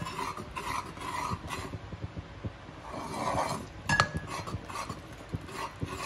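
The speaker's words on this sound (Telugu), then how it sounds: "మనం పాకం వచ్చేంత వరకు తిప్పుతా ఉందాం." Roasted groundnuts stirred in jaggery syrup in a pan, with a metal spoon clinking and scraping against the vessel in a loose, irregular rhythm at moderate volume.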